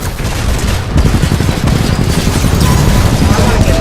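Automated turret in a first-person shooter firing a dense, continuous stream of gunfire, loud and close with booming impacts throughout, alongside the EVA 8 auto shotgun.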